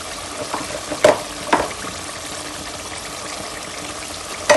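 Yogurt added to hot oil for Pakistani-style biryani, giving a steady close sizzle and hiss broken by a few sharp spoon or pan clinks.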